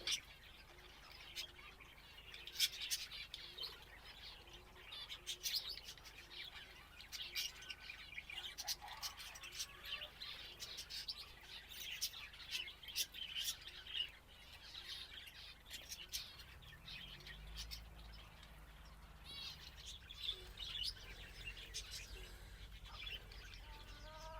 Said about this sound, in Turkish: Dışarıdan gelen muhabbet kuşlarından biri daha.